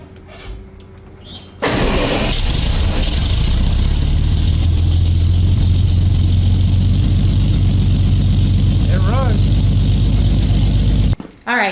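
A 1964 Chevrolet C-10 pickup with an inline-six engine and a newly installed FiTech 30003 fuel injection system cranks and catches, then settles into a loud, steady idle close by for about ten seconds before cutting off.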